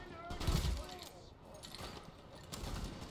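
Bursts of gunfire from The Division, loud and close, aimed at masked enemies, with scattered volleys over about three seconds while a voice speaks over the shooting.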